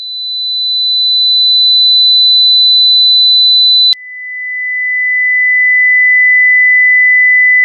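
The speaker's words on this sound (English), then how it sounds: "4K is very displeasing to the ear" A pure 4 kHz sine test tone holds steady and loud for about four seconds, then cuts abruptly to a lower steady tone that sustains to the end.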